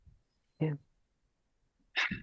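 One short, sharp sneeze bursts out in a quiet room, followed after a pause by a brief spoken reply.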